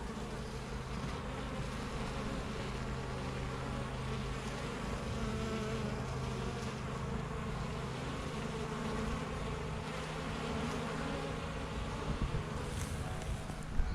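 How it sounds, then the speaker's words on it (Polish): Honeybees awake and busy at the hive, a continuous close buzzing hum that stays steady and even throughout with no talk. "tak jak widzicie, pszczółki się obudziły i pracują dosyć mocno"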